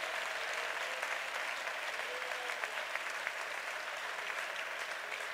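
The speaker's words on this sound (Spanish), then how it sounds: "Si quieres un aplauso, dáselo al Señor en esta hora." A church congregation applauds the Lord during a Spanish-language sermon, a steady dense wash of many hands clapping at moderate loudness, continuous throughout with no voices standing out.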